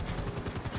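A helicopter in Grand Theft Auto V gives a steady, loud rotor whir with a fast, even thumping pulse. No one speaks over it.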